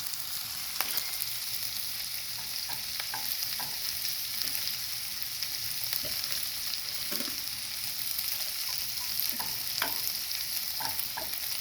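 Jalapeno peppers sizzle steadily in hot cooking oil, a continuous crackling fry with scattered sharper pops and occasional stirring, close and moderately loud with no voices.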